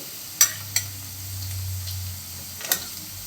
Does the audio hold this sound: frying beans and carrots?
yes